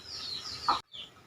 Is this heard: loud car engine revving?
no